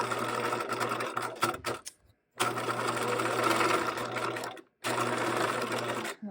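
A sewing machine stitches the pocket seam on a pair of shorts in steady whirring runs, stopping briefly twice between bursts, close and fairly loud with no talking.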